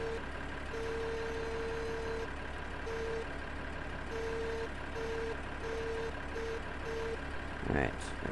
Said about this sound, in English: I just go like this, and then we'll back the truck up.